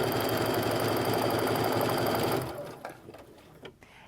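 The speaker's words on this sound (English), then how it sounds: "we're going to start by getting those points together and sewing down the other side" A sewing machine stitches the seams of interlocking fat-quarter quilt triangles, its motor whirring loudly and steadily up close before stopping abruptly, leaving a few soft handling clicks and rustles.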